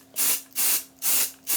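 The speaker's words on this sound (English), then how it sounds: "I have got another setting spray, and this is like the ultimate hold it all down fix and spray by Krylon" Krylon makeup setting spray misted in four short, loud hissing bursts at a steady rhythm, each lasting about a third of a second, with brief quiet gaps between them.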